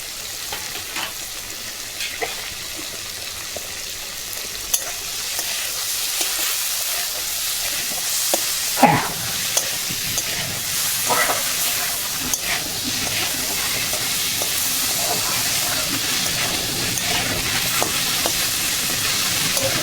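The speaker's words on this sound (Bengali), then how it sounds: "বন্ধুগণ আলুটা আমার ভাজা হয়েছে" Potatoes fry in a pan with a steady sizzling hiss, broken now and then by scraping and clinking as they are stirred, close and continuous throughout, with no talking.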